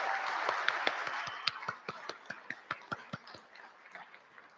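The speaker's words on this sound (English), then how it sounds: "Let's give her another round of applause." Applause for a community contributor at a school gathering, a few people clapping in a steady rhythm of distinct, fairly faint claps that slow and thin out toward the end.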